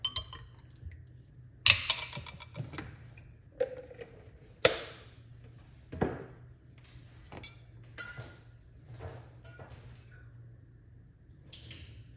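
A spoon clinks against a cup while organic honey is stirred into clove tea. The clinks are sharp and scattered rather than steady, with faint liquid swirling between them and no talking.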